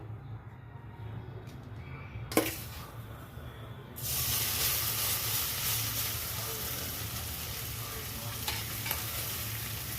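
Leftover carrot pulp from juicing hits a hot pan for halwa: a sharp hit, then a louder steady sizzle and hiss with occasional stirring scrapes, close and alone.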